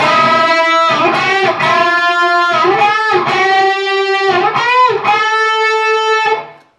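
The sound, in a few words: electric guitar unison bends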